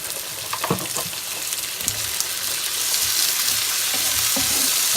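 Chopped tomatoes and onions sauté with curry leaves in a pan for a crab curry, a close, rising sizzle broken by a few scraping stirs early on, then swelling into a steadier hiss with no voices.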